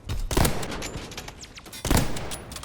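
Call of Duty World War II sniper rifle shots ring out in gameplay, two sharp loud reports about a second and a half apart with echoing tails and other battle noise between them.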